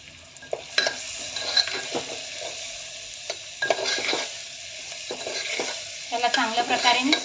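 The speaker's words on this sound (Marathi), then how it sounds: "त्याला चांगल्या प्रकारे मिक्स करून घ्यायचं।" Tomatoes and spices being stirred into soya khichdi in a pot, with repeated scraping spoon strokes against the pan over a soft sizzle, the stirring growing busier toward the end.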